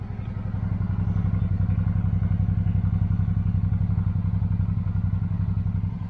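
A first-generation Suzuki V-Strom motorcycle engine with 61,000 kilometres idles close by with a steady, even chugging pulse and no voices.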